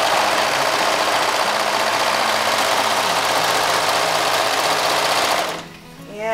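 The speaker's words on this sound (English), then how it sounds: "When I serge, I usually line up my fabric with the edge of this little part of the serger." Serger overlock sewing machine stitching fabric, a loud, fast continuous mechanical whir running steadily for several seconds before stopping abruptly near the end.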